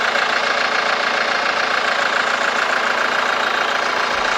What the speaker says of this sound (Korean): 그냥 일반적인 디젤 엔진 소리라고 생각을 해주시면 될 것 같고